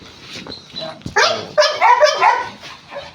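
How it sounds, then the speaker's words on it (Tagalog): A Doberman barks several times in sharp bursts, loud and near, with short gaps between barks and faint background noise. "Doberman."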